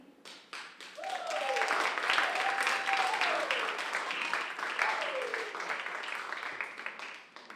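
An audience at a high school poetry showcase breaks into loud, sustained applause after a reading, with whoops and cheering voices riding over the dense clapping throughout.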